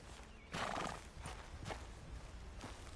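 A horse in Red Dead Redemption 2 whinnies loudly over steady clip-clopping hooves, then keeps walking with rhythmic hoof falls and softer snorts.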